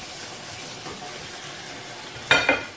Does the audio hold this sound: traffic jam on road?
no